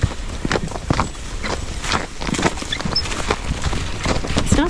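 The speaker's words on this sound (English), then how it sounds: "Jim decided to use Ken for skidding because he's just kind of a slower moving horse." A slow-moving draft horse walks while skidding logs, its hooves landing in an irregular sequence of soft thuds over scraping and crunching ground, close by and fairly loud.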